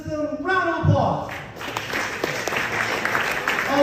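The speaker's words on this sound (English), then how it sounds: "Round of applause" An audience of high school seniors at a presentation breaks into a round of applause, dense clapping that follows a brief spoken line and continues steadily.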